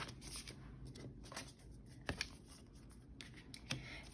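Cards riffle and slide softly, close and quiet, with a few sharper snaps as they are shuffled.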